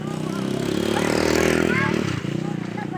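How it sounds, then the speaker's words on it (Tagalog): Motorcycles passing along a roadside at dusk, a swelling engine drone that peaks and fades as a bike goes by, with people talking over it. "Kaya maingay ang mga motorsiklo."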